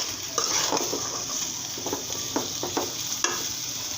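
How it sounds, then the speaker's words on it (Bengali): Fenugreek greens frying in a pan with garlic and spice paste: steady crackling sizzle with repeated scraping and stirring strokes of a spoon against the pan, close and moderately loud, no voices. "এখন আমি পেস্টটা ভাজা ভাজা করে শাকটা ঢেলে দিয়েছি।"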